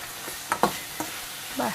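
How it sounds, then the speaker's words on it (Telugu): Tamarind pulp cooking in oil over a low flame, a brief soft sizzle with a few faint stirring scrapes, quiet and close. "చింతపండు గుజ్జు నుంచి ఆయిల్ సపరేట్ అయ్యే వరకు లో ఫ్లేమ్లో పెట్టేసుకొని ఉడికించుకోవాలన్నమాట ఈ చింతపండు గుజ్జుని"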